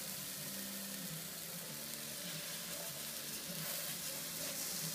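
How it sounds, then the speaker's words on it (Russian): Meat cutlets sizzle in a preheated Princess pizza maker, a steady close-up crackle of frying that holds even and unbroken throughout. "Вот они ни сок не выпускают, они сразу же схватываются и начнут жариться"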